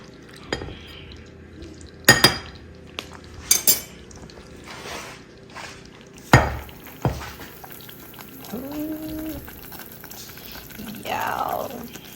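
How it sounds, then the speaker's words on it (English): Cheese sauce is stirred into cooked macaroni noodles in a pot, with sharp clanks of a utensil against metal and soft wet squelching, mixed with brief talk nearby. "We're gonna add our cheese sauce to our noodles."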